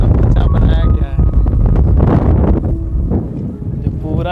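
Strong wind at the Statue of Unity buffets the microphone in heavy continuous gusts, with a voice talking underneath the roar throughout.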